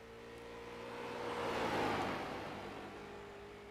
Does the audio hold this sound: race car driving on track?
yes